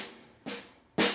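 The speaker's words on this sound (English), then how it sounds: "So when you hear them on the snare drum, they sound like this." Two light ghost notes tapped on a snare drum, close up and alone, each a soft brushy hit with a short fading tail, spaced about half a second apart.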